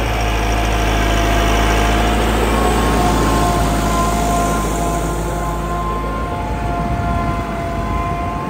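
Tractor engine running steadily in first gear at about 1400 rpm, fitted with a new plough, a loud continuous droning hum with constant harmonics, close and alone throughout.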